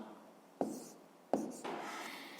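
A pen writing on paper during a fifth-grade maths exercise, with a few short scratchy strokes close by, separated by brief pauses.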